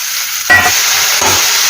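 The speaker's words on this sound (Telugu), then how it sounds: "ఇందులో మనం ఉడకబెట్టిన బంగాళదుంప ముక్కలు వేసేస్తున్నాము" Boiled potato pieces drop into a pan of frying onion chili paste, setting off a loud, steady sizzle broken by two short stirring scrapes, with no voices.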